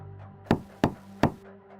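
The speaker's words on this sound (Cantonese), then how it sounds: "突然傳嚟咗一聲嘅門響" Three sharp knocks on a door, evenly spaced and close, in a quiet room.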